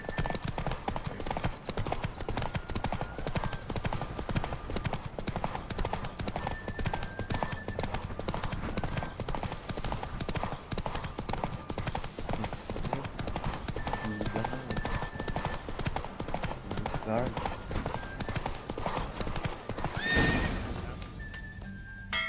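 A horse gallops in The Witcher 3: The Wild Hunt, with rapid, steady hoofbeats sounding close and loud for a long stretch, a brief whinny near the end as the run slows.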